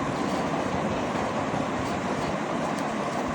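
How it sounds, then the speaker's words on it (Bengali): A fairground ride train rumbles continuously and fairly loud at close range, a dense, steady mechanical roar with no voices over it. "এখানে আছে ট্রেন"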